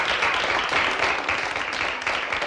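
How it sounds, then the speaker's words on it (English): Crowd applause from a virtual 9-ball pool video game at a world championship match, a steady dense wash of clapping that runs loud and continuous throughout with no talk over it. "A bit of crowd encouragement for Chimpie"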